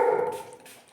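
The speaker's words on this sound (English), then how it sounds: "He keeps barking. Can't do anything. It's a dog" A dog's bark or yelp rings out once at the start, then trails off into a quieter, fading tail.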